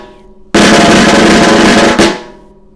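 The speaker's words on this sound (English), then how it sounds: "So your buzz roll is going to sound like this." Snare drum buzz roll played as a dense, continuous loud rattle for about one and a half seconds after a faint lead-in, ending with a brief accent and a ringing decay.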